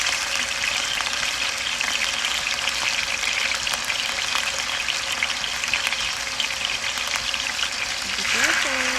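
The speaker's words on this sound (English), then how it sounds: "Be careful because it's sizzling." Steady, dense sizzling of chicken frying in hot oil over medium heat, continuous and close throughout, with a brief faint tone near the end.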